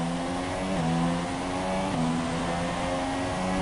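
A race car engine in the FlatOut racing game, revving hard and loud with sudden pitch drops at each gear change, continuous and up front.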